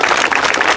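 Brief outdoor applause from an audience at a community remembrance event, a loud, dense burst of clapping lasting under a second.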